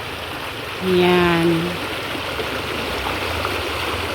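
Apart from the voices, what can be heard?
river flowing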